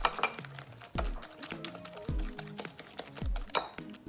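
Utensils clink and scrape against a mixing bowl as pecan pie filling with eggs and butter is stirred together, giving a series of close, irregular knocks and rattles with no talking.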